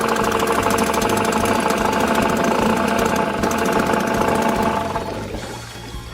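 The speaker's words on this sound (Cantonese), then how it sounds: "聽俾少少油佢溫一陣部機先" Small 4-horsepower outboard boat engine idling while it warms up, a close, steady mechanical chugging with a fast regular knock that eases off toward the end, alone without talk.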